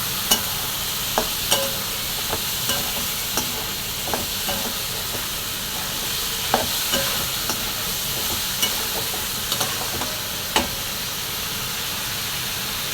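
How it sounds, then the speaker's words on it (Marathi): Cauliflower and peas being stirred in a frying pan, with repeated spatula scrapes and knocks over a steady background hiss of frying, no voices. "त्यावर लगेच आपण मिक्स करून घेऊया"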